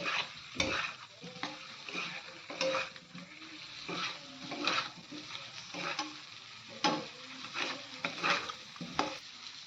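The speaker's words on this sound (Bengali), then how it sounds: "আলুটাকে কিছু সময় ভালো করে নেড়ে চেড়ে কষিয়ে নিতে হবে।" Potatoes being stir-fried in a pan, a quiet low sizzle punctuated by frequent sharp scrapes and knocks of a spatula against the metal, heard close with no talking.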